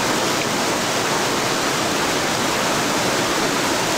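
Steady, dense rushing hiss of heavy rain, continuous and loud with no pauses or voices.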